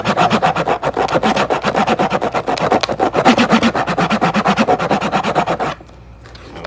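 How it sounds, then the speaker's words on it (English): A flathead screwdriver scratches hard across 2-inch gaffer tape on cloth in a fast, steady back-and-forth rasp, loud and close, with dozens of rhythmic strokes before stopping abruptly near the end. "So we got a flathead screwdriver"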